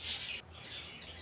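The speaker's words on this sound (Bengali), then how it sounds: "দেখেন কত সুন্দর সুন্দর পাখি।" Pet birds in a shop chirp in a short, bright burst, then fall back to faint twittering over a quiet background.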